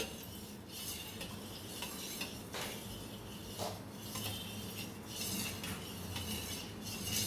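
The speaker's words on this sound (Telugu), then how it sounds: "మనకి కండెన్స్డ్ మిల్క్ కలిసే వరకు కూడా బాగా కలబెట్టుకోవాలి." Sago payasam with condensed milk is stirred in a pot, with repeated close spoon scrapes and light metallic clinks over a steady background hiss.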